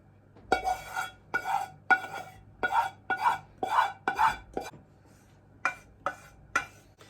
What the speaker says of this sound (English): now it says add the melted chocolate and butter and mix it in with